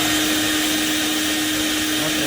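A wet vacuum machine motor runs continuously under repair, a loud steady whine with a strong fixed hum tone and airy rushing noise, unchanging throughout.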